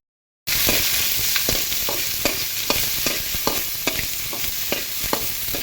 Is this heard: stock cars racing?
no